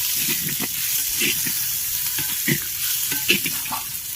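Ginger, garlic and onion fry in a handi cooking pot for mutton handi, with a steady sizzle and occasional stirring scrapes throughout. No voices.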